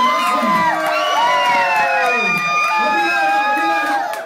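An audience at a live show in a Paris club cheers and whoops loudly throughout, with shouting voices rising and falling over a steady crowd roar.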